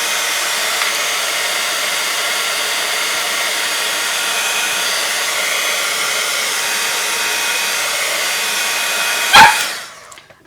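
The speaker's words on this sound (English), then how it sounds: "I am going to get my heat gun just because I want to get rid of the glue gun bits." A heat gun blows a steady, loud, even whoosh close by for about nine seconds while it melts glue gun bits off a handmade card, then a brief knock sounds and the airflow winds down.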